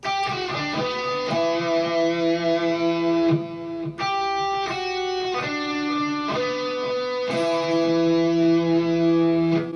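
An electric guitar plays a short 80s rock lick, sustained distorted notes sliding and bending in a few phrases, loud and up close with no talking.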